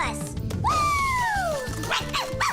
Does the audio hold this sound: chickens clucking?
no